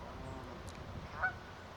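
A greylag goose gives a short honk partway through, moderately close, over a low steady outdoor background with no talking.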